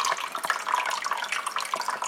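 Water trickles through a small fake river in a homemade Christmas village display, a close, bright babbling with quick irregular splashes and drips, continuous with no talk.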